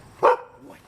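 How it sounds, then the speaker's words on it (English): A Vizsla dog gives one sharp, loud bark on command, close by, followed by a fainter, short trailing yip, then quiet. "Bark on command."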